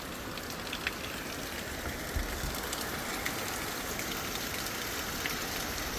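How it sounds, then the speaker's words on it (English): Heavy rain from Cyclone Jasper pours steadily onto surfaces around a caravan, a dense, continuous hiss with occasional louder drops and gusts, no voices. "Yeah, it is raining a lot."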